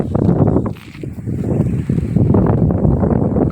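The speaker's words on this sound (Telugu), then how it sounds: "గాలి బాగా వస్తుంది" Strong gusty wind with swaying trees roars and buffets the microphone in a loud, continuous rush that briefly dips before surging again; no voices.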